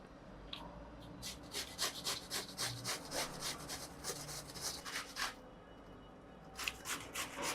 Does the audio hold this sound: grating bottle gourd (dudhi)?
yes